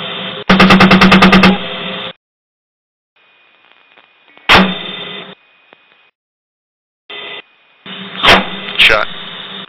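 Apache helicopter gunfire in a video game comes as rapid bursts of loud automatic shots with sharp impacts between pauses, while a voice talks over the action.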